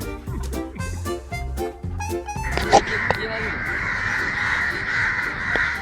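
A crow fighting a rat gives a run of loud, harsh caws in a quick rhythmic series, then a wild squawking scuffle over a narrator's voice and dramatic background music.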